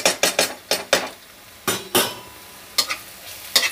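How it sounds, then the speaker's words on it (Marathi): Crushed garlic paste frying with browned onion in a pan, stirred with a metal spoon: loud, close scraping clinks in quick bursts over a steady low sizzle. "त्याला कांद्यासोबत भाजून घ्यायचं आहे"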